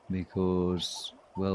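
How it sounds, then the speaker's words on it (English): A Cape turtle dove calls in the African bush with a short low coo and then a longer one, repeated after a pause, while a higher chirp briefly cuts in and a person talks alongside. "There's a Cape turtle dove calling."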